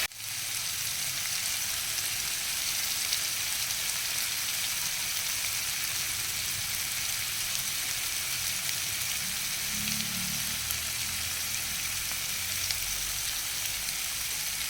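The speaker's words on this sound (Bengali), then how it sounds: "মশলাটা ভালো করে কষিয়ে নেব।" Spice paste sizzles and fries steadily in a pan for a catla fish curry, a quiet continuous crackle with occasional stirring scrapes.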